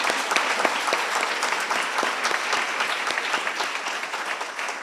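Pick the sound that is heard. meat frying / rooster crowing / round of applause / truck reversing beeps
round of applause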